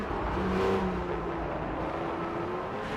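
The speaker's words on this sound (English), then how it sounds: "Did he just rev it upshifted or downshifted perhaps, and then you can hear the revs go up and into the exit of the corner" A race car engine in a sim racing game, a Le Mans endurance race at night, drones steadily with revs rising and holding through a gear change, close and continuous with no talking.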